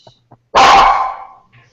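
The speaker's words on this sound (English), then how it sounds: "Sorry, barking dog." One loud, close dog bark bursts out and fades over about a second, with faint speech fragments before and after it.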